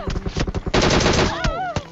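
Rapid bursts of gunfire in the Novo shooter game hammer close and loud, first as a string of separate shots, then as a dense sustained volley, followed by a couple of single shots, with a voice briefly heard between them.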